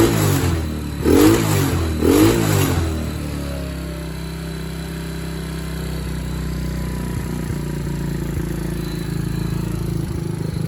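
Tao Motors 125cc ATV engine blips its throttle twice in quick revs, then slowly sinks back to a steady, rough idle that carries on close by with no talking.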